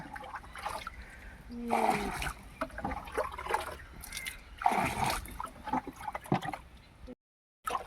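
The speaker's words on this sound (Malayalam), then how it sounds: "വെള്ളം കോരി" Water is bailed out of a boat in two or three splashing scoops and tosses, with quieter trickling and sloshing between them and faint voices nearby.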